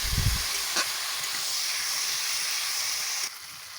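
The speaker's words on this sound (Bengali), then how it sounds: "দেখেছো বন্ধুরা কতটা সুন্দরভাবে কষিয়ে নিচ্ছে আমি, আর গা থেকে তেলটাও ছেড়ে দিয়েছে।" A spice mixture sautéing in oil for an egg and red lentil curry makes a steady, close hiss and sizzle, with a brief low clatter at the start.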